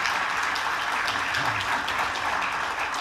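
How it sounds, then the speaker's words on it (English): Audience at a global justice symposium at Pepperdine applauding, a dense, continuous wash of many hands clapping in a large hall, steady and fairly loud with a faint voice murmuring beneath. "I only accept that applause for them."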